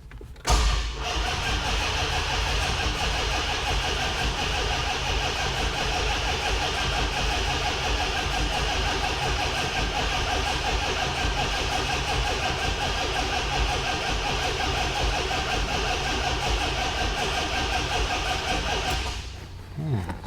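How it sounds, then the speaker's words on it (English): A supercharged Hellcat V8 running steadily and loud after a start on a nearly dead battery, with a constant broadband roar and a high supercharger whine sustained for about twenty seconds before cutting off at the end. "The supercharger's whining."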